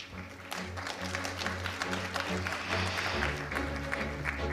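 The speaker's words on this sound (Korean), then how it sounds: "여러분 다시 한번 박수 보내주십시오" An audience at the first Exhibition Industry Day ceremony applauds a ministerial award presentation with steady, moderately loud clapping over a low background hum.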